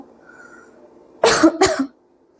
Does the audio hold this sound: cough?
yes